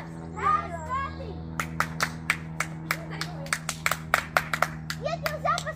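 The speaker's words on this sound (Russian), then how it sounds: "Нет, нельзя постоянно хлопать." A child claps in a room with a steady low hum, a run of sharp, close hand claps at an uneven pace. Children's voices and chatter come at the start and end.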